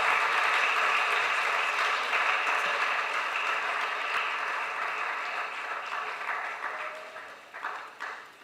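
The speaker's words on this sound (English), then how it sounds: "give a resounding round of applause to our speaker" A crowd at a college engineering public lecture applauds the speaker steadily, the clapping strong at first and gradually thinning and fading toward the end.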